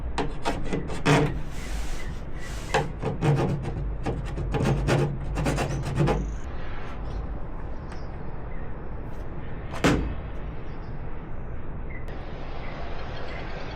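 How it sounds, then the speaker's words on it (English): Rapid scraping strokes of a file rasping against a boat oar-storage part so it screws in flat, a dense burst of quick rubs that stops, then a single louder scrape later amid quiet workshop noise. "Just file this down a little bit so it screws in flat."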